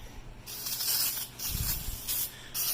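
Brake cleaner hisses out of an aerosol can in three loud, close bursts during work on the rear brakes of a 2007 Honda CR-V, with short pauses between sprays.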